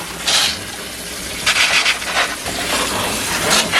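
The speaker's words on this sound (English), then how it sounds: "I'm just going to give them a quick rinse." Berries rinsed under running water at a home kitchen sink, a steady gushing splash with brief louder bursts as the fruit is moved through the stream.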